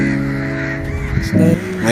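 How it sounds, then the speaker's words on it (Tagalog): Crows caw noisily along the Corniche in Dammam, Saudi Arabia, a couple of harsh calls rising over steady outdoor background noise. "Ngayon nagtataka ako bakit ang ingay ng mga uwak dito."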